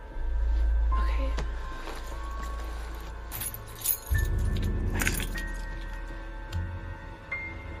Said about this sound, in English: Why don't you give me your car keys?